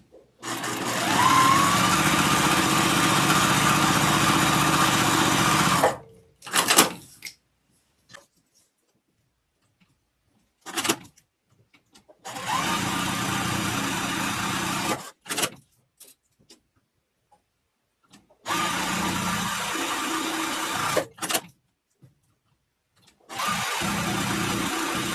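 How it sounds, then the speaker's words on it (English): A sewing machine stitching a quarter-inch seam around the sides of a square maple leaf quilt block, running in several steady whirring bursts of about five seconds each, separated by silent pauses and brief handling clicks. "we want to just, again, sew 1/4 inch around each end of the square"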